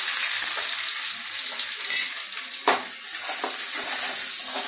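Onions hit hot oil with mustard seeds for a prawn fry, giving a loud, continuous, close sizzle with crackling pops and a few stirring scrapes, no voices.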